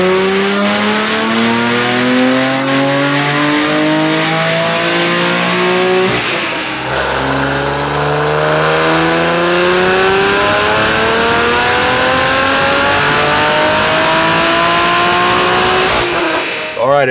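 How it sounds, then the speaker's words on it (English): Manual BMW F82 M4 built to over 900 wheel horsepower, revving hard on a dyno: loud rising engine sweeps climbing through the gears, a pause near six seconds, then another long pull ending in a sharp lift-off. "the final day has come for us to get this car on the dyno"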